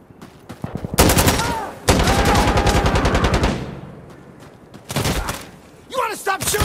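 Rapid automatic gunfire in Insurgency Sandstorm, loud close bursts of machine-gun fire in several long strings with short pauses, a voice shouting over the shooting near the end.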